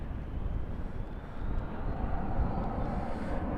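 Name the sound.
American Airlines Boeing 777-300ER taking off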